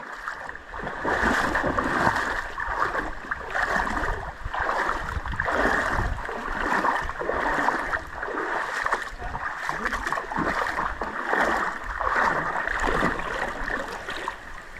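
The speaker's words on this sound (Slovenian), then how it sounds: "Brodenje po vodi." Steady splashing and sloshing of feet wading through shallow, clear water in the Doblarec stream canyon in Slovenia, continuous and close, with rhythmic surges of each step over the running stream.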